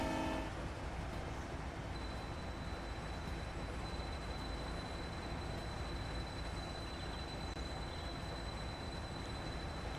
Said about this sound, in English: this train that's going to be passing us is bound for the Kenwick food factory